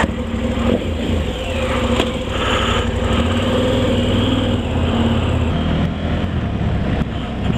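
A KTM 1290 Super Adventure motorcycle engine on a test ride, a loud steady droning buzz held throughout with slight shifts in pitch as the throttle varies, plus wind rush.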